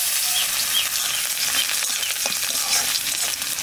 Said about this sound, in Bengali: এবার দিয়ে দেবো রসুন কুচি।